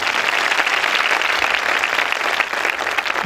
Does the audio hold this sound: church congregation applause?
yes